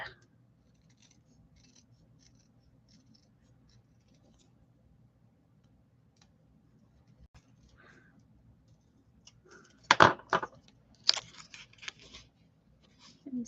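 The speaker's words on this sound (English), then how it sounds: "I need to trim this just a tad." Scissors snipping paper during an art project, a few sharp close cuts bunched near the end after a long quiet stretch, with faint ticks and soft talk around them.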